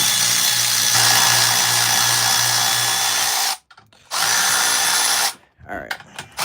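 Power tool spinning off a bolt on a Subaru during repair work, a loud steady whir running for several seconds, cutting out briefly, restarting, then stopping with short bursts at the end.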